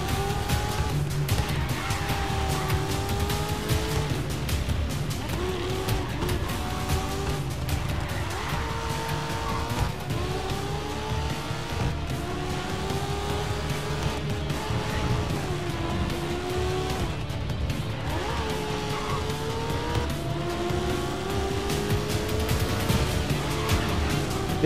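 Race car tires squeal and skid continuously in the GRID Legends racing game, with long wavering screeches over a loud, steady engine roar and no talking.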